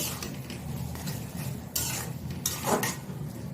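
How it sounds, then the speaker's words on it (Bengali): Ground taro cooks with spices in a wok: a low sizzle under repeated scraping and stirring strokes of a spatula, close and fairly loud. "এই মশলার সাথে আমি ভালো করে একদম ভাজা ভাজা করে নেব"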